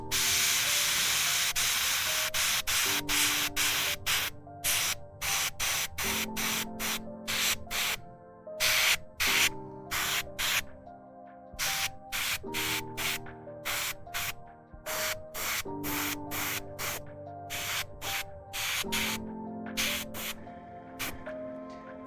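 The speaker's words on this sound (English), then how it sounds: "All right, let's try to do some airbrushing." An airbrush sprays paint onto a miniature model in sharp, close bursts of hiss, stopping and starting irregularly over a steady low background hum, with no talking.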